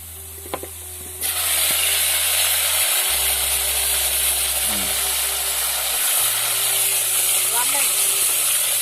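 Betok fish frying in a pan, a steady loud sizzle and hiss that sets in after a short pause and holds throughout, with low humming tones underneath.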